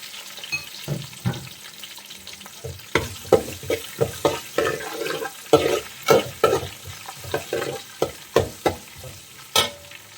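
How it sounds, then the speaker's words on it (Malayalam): Ginger and garlic sautéing in oil in a pan for a fish curry, with a steady sizzle broken by repeated scraping stirs of a spoon, close and fairly loud, no talk. "കുറച്ച് ഇഞ്ചിയും വെളുത്തുള്ളിയൊക്കെ ചേർത്ത് കൊടുത്ത് ഇത് നന്നായിട്ടൊന്ന് വഴറ്റിയെടുക്കാം"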